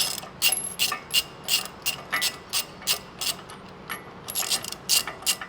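Up close, a ratchet snugs the stabilizer bracket bolts on a Ford Super Duty truck with a steady series of loud metallic clicking bursts, one stroke after another, and no talking.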